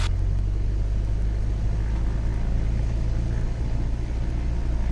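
A small airplane's engine holds a steady throttled run-up at 1700 rpm, a loud, even droning rumble heard up close with no pauses.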